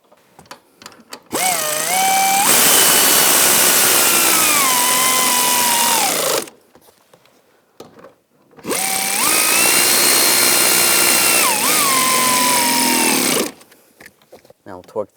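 Two long, steady whirring bursts from a power tool driving the seat bolts on a 2010-2017 Chevrolet Equinox, each lasting about five seconds, loud and close, with pitch shifts as the bolts tighten and brief quiet gaps around them.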